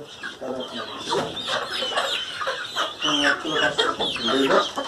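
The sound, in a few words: chickens clucking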